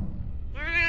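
An alien kitten in a cartoon lets out a single rising, tonal meow that starts partway in, loud and close, following a brief low rumble.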